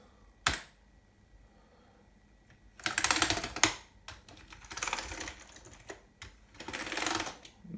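Typing on a Commodore Amiga 1200 keyboard: an isolated keystroke, then bursts of rapid clicking key presses with short pauses between them, close and fairly quiet.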